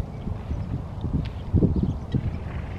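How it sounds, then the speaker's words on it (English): Irregular hollow thuds of a horse's hooves clip-clopping on the ground nearby at a stable, with soft rustling and light background noise. "This is my horse, Missy."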